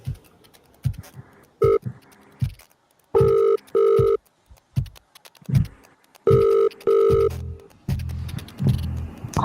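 A telephone rings on an outgoing call, with paired ringback tones in several distinct bursts mixed with clicks and dialing blips before a low voice-like murmur at the end.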